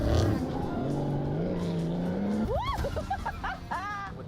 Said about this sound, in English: Borla exhaust systems deliver the perfect sound and cutting-edge performance.